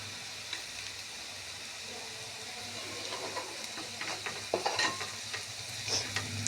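Onions fry with salt in a pan, a steady close sizzle with soft stirring scrapes and a few louder spatula knocks toward the end, no voices.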